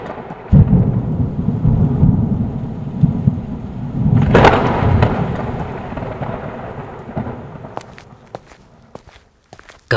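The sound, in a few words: heavy rain with thunder, sound effect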